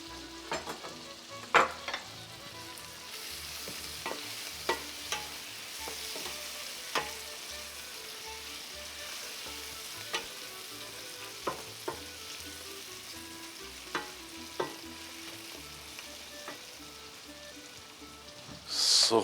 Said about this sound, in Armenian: տապակելու ենք սոխը և միսը